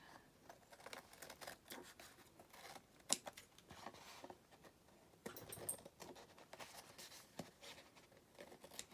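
Glue-coated scissors snip and trim the bottom edge of vintage map pages, a few close, quiet crisp cuts with light paper rustling and handling between them, no talking.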